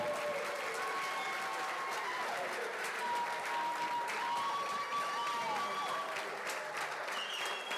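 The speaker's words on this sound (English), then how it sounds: "They're standing, they're clapping." Audience giving a standing ovation at a youth singing competition, dense sustained clapping filling the room, with faint cheers and a voice speaking lightly underneath.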